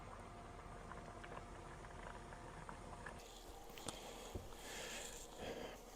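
A one-pot pasta dinner cooks on a camp stove outdoors, giving a faint, steady bubbling and hissing with a few soft clicks and knocks.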